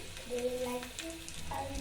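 Mustard seeds sizzle in hot oil for a tempering with a soft, continuous crackling hiss, while a voice talks over it.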